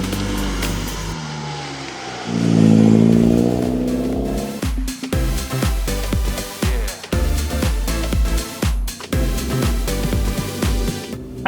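A Vauxhall Astra VXR Nürburgring edition engine revs up in a rising, loud swell, then drops into a run of sharp, rhythmic bursts and pops, close and with nobody talking.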